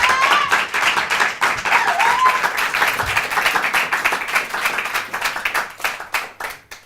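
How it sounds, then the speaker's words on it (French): A theatre crowd applauds a comedian taking the stage at a French comedy show, brisk close clapping with a few whoops that thins out near the end. "Je vous demande d'applaudir."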